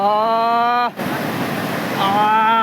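Rushing floodwater from heavy rain in Mahuva, a broad continuous roar of flowing water, loud and close, partly masked by someone talking at the start and end.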